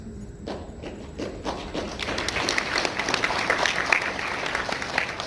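Audience applause at a fan event where two Power Rangers actors talk, rising from scattered claps into sustained, dense clapping that stays steady and fairly close, with no talk over it.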